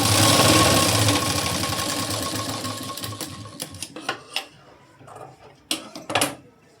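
Close, loud sewing machine running a double line of stitching on a blouse, a fast continuous whir for about three seconds before trailing off into scattered clicks and handling knocks.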